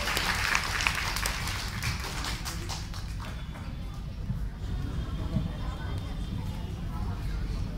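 Audience applause for Rumpa Bhowmik at a children's festival celebrating Kalparekha's fifteenth anniversary: a burst of clapping over the first few seconds that thins into a murmuring crowd and room noise.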